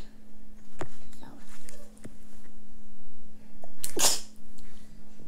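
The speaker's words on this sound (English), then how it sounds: "Sorry about that, I need a sneeze." A single sharp human sneeze bursts out near the mic, loud and brief, over a steady electrical hum and faint background noise from a game session.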